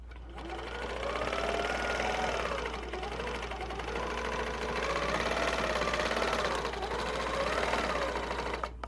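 A Handi Quilter longarm quilting machine stitches along a ruler with its hopping foot, giving a steady, rapid mechanical whir and needle chatter that rises and eases slightly in pace, close and continuous, with no talking.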